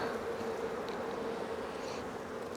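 Honey bees buzzing on a hive frame that has just been shaken, a dense steady drone with a clear humming pitch, close and continuous, no voices.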